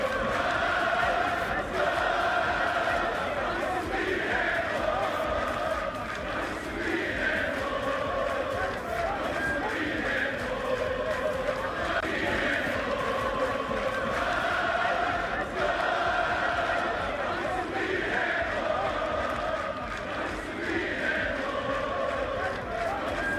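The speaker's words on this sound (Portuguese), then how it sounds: "Torcida cantando ao final da vitória." Remo football supporters singing together at Carlos Amici stadium after a victory over Amazonas, a dense, steady crowd chant with rhythmic swells that carries on throughout, loud and unbroken.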